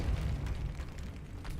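A Depulso spell blast in the Hogwarts Legacy video game: a loud, low, rumbling boom that stays heavy and sustained through the brief moment.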